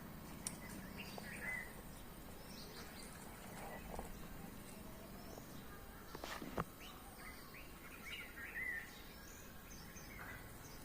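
Faint chirps and short calls of birds scattered over a quiet outdoor background beside a wheat field, distant and intermittent.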